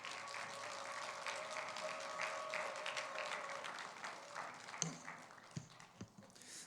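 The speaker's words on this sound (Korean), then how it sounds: "우리 박수로 모시겠습니다." A church congregation at a Friday prayer meeting applauds to welcome a visiting pastor, a soft, fairly distant patter of many hands that thins out into a few scattered claps and knocks near the end.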